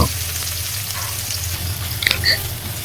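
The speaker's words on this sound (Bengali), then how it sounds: "ভাজা প্রায় এই রসুনগুলো আমার শেষের দিকে" Garlic frying in a pan for a Bengali garlic bhuna, giving a steady close sizzle with a few brighter crackles and pops near the end.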